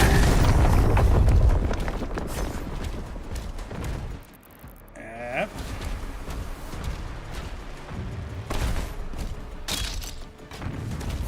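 Video game gunfire and explosions in a demonic Dark Ages setting, a loud rumbling boom at the start and then steady dense battle noise with sharp bursts scattered throughout.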